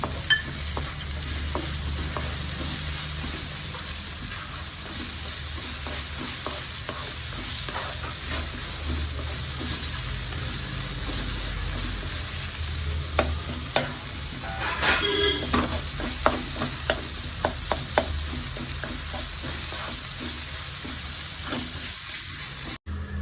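Steady sizzling of onions frying in a pan as tomato is added for wheat noodles, with scraping and stirring clicks across the whole stretch, a few sharper taps near the end, no voices.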